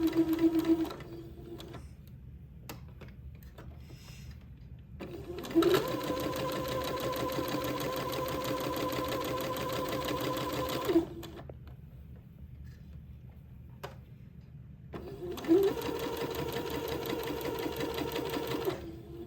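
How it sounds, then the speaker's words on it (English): A sewing machine sewing basting stitches on a baby gown, two long runs of fast, even, close-up whirring stitching separated by quiet pauses with faint handling sounds. "this will take me a minute to get all of these basting stitches in"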